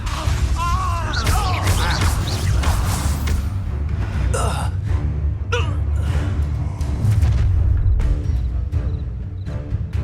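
Spell blasts and magical impacts from combat in Hogwarts Legacy on PS5, with loud crashes and whooshes layered under continuous shouted character dialogue and a game score.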